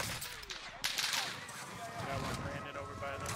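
Rapid bursts of video game gunfire crackle nonstop, dense and loud, over a wash of game effects, with a player's voice talking throughout.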